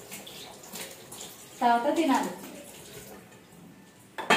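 Running water at a kitchen sink while dishes are washed, with a faint steady stream and a brief louder splash and clatter. A person speaks briefly.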